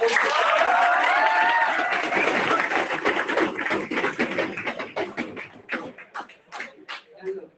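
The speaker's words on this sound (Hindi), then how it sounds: "समझ में आए तो ताली बजा देना" Students applauding in a physics coaching classroom, a dense burst of clapping that thins into scattered individual claps and taps as it dies away, with some voices mixed in.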